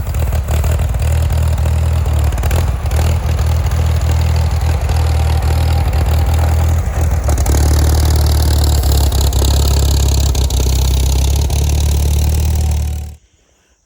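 A Farmall M tractor engine runs loud and close, a steady low idle with a heavy rumbling throb that continues unbroken for most of the stretch before suddenly shutting off.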